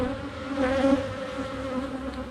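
Honey bees buzzing during a hive inspection, a dense, steady drone of many wings close by that wavers slightly in pitch and loudness, with no talking over it.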